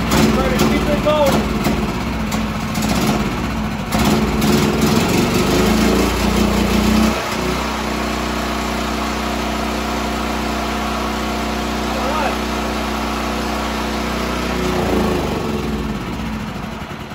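A Powerhorse 9000ES gasoline generator engine runs with a loud, steady droning hum, rough and busy at first, then settling into an even idle; a voice talks over it.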